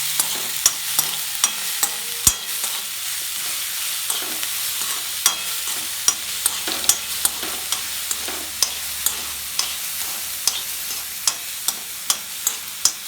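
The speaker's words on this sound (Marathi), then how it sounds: "त्याच्यानंतरच मटकी सोबतच हे सगळं आलं ना थोडं परतून वगैरे घ्यायचं." Sprouted matki moth beans being sautéed with other ingredients in a pan, a steady soft sizzle broken by regular scraping strokes of the spoon about once a second, close and alone with no talking.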